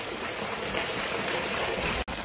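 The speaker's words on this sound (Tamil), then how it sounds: "ஒரு 3 அடி தூரத்துக்கு தண்ணி நல்லா ஹை ப்ரெஷரில் போய் விழுந்துட்டுருக்கு." Water from a 3000W BLDC motor pump gushes out at high pressure, a dense, steady rushing hiss that stays loud and close with a brief dip near the end.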